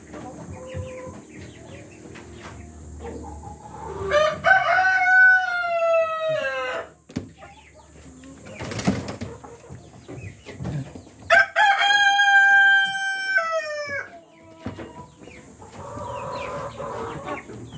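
Roosters in a breeder cage crow twice in long, loud drawn-out calls, with softer clucks and farm ambience in between.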